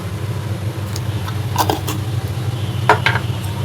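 Finely chopped fenugreek leaves (methi) are stirred and sautéed in a pan over a low gas flame, giving a steady sizzle broken by a few bursts of spatula scraping.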